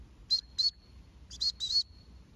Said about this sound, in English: Obviously a short burst is for when I know I can see him,